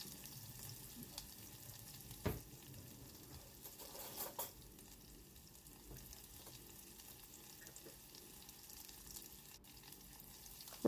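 Ginger, garlic and onion frying in a pan at home, a soft steady sizzle with occasional stirring clinks and scrapes, fairly quiet throughout with no voices.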